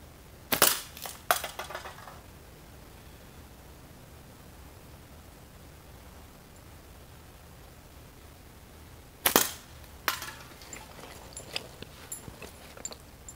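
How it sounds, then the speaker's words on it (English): Slingshot shots aimed at a can outdoors: two pairs of sharp snapping cracks, each a release followed quickly by an impact, separated by several seconds of quiet background hiss. "I'm going to take a couple of shots at this can and see what it does."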